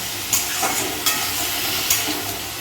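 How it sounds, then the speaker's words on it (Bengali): Cut ambarella pieces fry in hot oil with a little mustard seed, a constant close sizzle broken by three or four sharp scraping strokes of a stirring spoon. "বিলিতি আমরা, এবার এটা দিয়ে দেবো তেলে। নেড়ে দেবো ভালো করে।"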